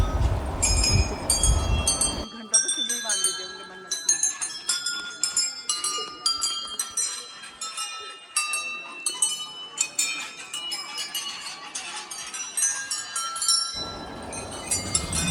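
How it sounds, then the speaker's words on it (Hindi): Many small offered bells at the Tarkeshwar Mahadev temple in Uttarakhand ring with bright, overlapping metallic chimes and clinks for several seconds, close and continuous, over a light murmur of people. "मंदिर के चारों ओर हजारों घंटियां लगी हुई हैं जिन्हें श्रद्धालु चढ़ाते हैं।"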